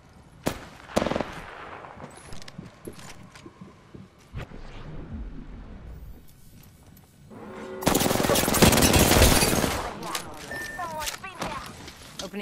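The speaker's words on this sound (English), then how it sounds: "Opening fire." Video game gunfire rattles out in bursts under a player's speech, with a louder, denser stretch of sustained shooting midway through and scattered shots around it.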